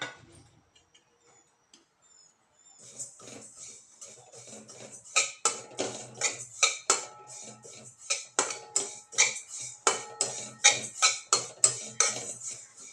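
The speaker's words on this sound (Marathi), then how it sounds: "कढई गरम झालेली आहे, तर आपण तीळ त्याच्यामध्ये चांगले भाजून घेऊया." Sesame seeds roasting in a hot kadhai: after a quiet start, a spatula scrapes and clinks against the pan in steady, rhythmic strokes that grow louder and sharper, close by, with no voices.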